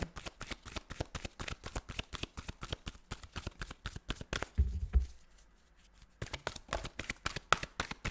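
Tarot cards riffled and shuffled by hand in quick, crisp bursts, close up, with a brief pause midway before the rapid flicking resumes; no talking.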